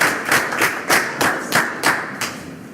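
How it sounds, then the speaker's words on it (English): A small audience claps for speaker Tom at a writing festival, a handful of evenly spaced, thumping claps heard close and clear before easing off. "let's give a round of applause for Tom"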